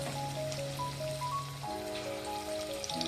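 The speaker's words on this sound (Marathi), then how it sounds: "बाहेर भरपूर असा पाऊस पडतोय एकदम तुफान पाऊस आहे" A steady wash of heavy, stormy rain falling outside sits under sustained musical tones, with no voices present.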